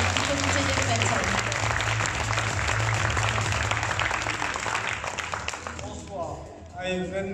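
Audience applause at a small-town beauty pageant evening, a dense steady wash of clapping close and loud that thins toward the end as a voice starts speaking over it.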